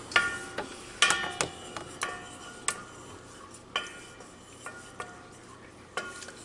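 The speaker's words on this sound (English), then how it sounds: "I'm going to use a wooden spoon and just stir this so it all gets mixed in" A wooden spoon stirs strawberry sauce thickened with cornstarch in a pan, producing irregular close knocks and clinks against the pan over a quiet background.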